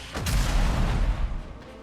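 Explosions in the real-time strategy game Tempest Rising, a heavy booming blast with rumbling low end that swells and then fades over about two seconds.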